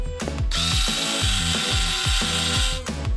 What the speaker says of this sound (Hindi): ड्रिल खराब हो गई